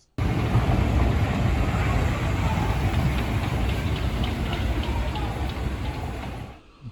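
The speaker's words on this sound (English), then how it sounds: "Here is a 707, a much better train." A Class 707 train pulls into a station, a loud, steady broadband rumble and rush holding for several seconds before easing off toward the end.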